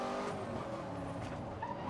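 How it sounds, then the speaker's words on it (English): A loud Ford car engine roars in the racing game Need for Speed Most Wanted, a continuous dense drive with what sounds like tire squeal, close and unbroken, with no talking. "This Ford is loud."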